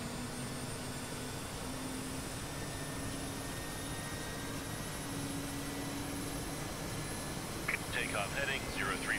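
The engine of an Mi-8 helicopter in the flight simulator DCS spools up as a steady, loud turbine whine and rumble, with a tone that stays constant throughout, and a short burst of chatter comes in near the end.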